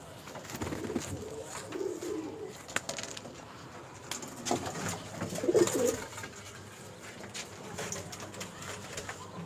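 Andhra breed pigeons coo softly in a loft, low murmuring calls rising and falling with a louder burst of cooing midway, plus faint rustling and background noise.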